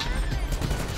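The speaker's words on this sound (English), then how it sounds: "Yo, the freaking military rifles, that's elite." Military rifle fire in GTA Online, a rapid burst of repeated gunshots over a sustained shooting clatter, loud and close within the game's mix.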